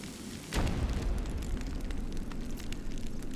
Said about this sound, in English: It's not a very imposing explosion